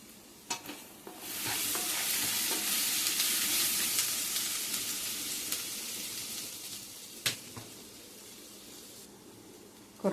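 Crushed garlic sizzles and fries in a hot pan with occasional stirring, a steady loud hiss that swells early and holds, broken by a few sharp clinks of a utensil against the pan.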